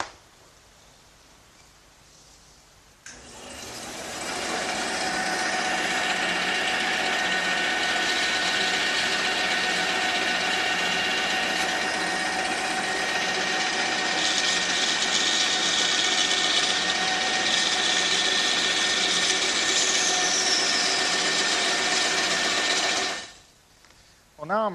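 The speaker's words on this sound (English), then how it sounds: "the first thing I'm going to do is cut these pieces on the bandsaw" A bandsaw cuts oak pieces for a workbench, running as a loud, steady mechanical whine for about twenty seconds. It starts abruptly and stops near the end, heard close and alone.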